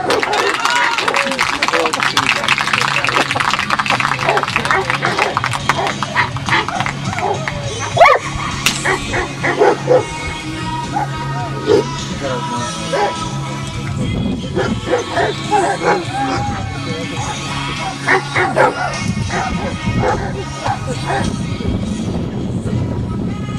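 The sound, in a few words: dog barking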